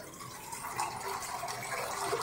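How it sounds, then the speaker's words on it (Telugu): A steady stream of water pours and splashes into a cooking pot, a continuous close gurgling fill with no voices. "ఇప్పుడు ఇందులో కొన్ని నీళ్ళు వేసా"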